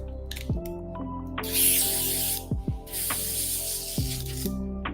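An airbrush sprays Panzer Gray paint in two sustained bursts of hissing air, close and fairly loud, while a low mechanical hum with brief dropping tones runs underneath.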